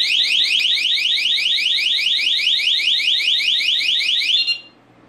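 Skylink Smart Hub SK-200 panic alarm in a home, a loud, rapid, steady electronic warble pulsing for over four seconds before cutting off to near silence, with no voices.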